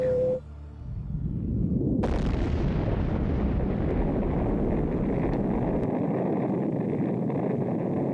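An atomic bomb over Hiroshima bursts with a sudden massive blast, then a long, loud, rumbling roar that rolls on and slowly fades, with wind-like turbulence and no voices.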